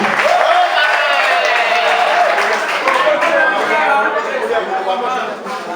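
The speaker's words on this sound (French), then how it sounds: "Je voudrais qu'on l'acclame encore une fois." A gathered crowd applauds an honoured public-service administrator, with sustained, loud, dense clapping mixed with cheering and overlapping voices throughout.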